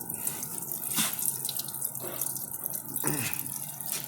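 Fuel gushes from the fuel bowl of an IH B275 tractor into a bucket, a steady splashing pour with a few louder surges, heard up close with no talk.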